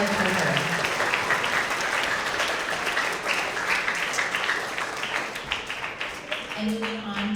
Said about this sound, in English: Another round of applause for all of our Social Studies Tigers of the Quarter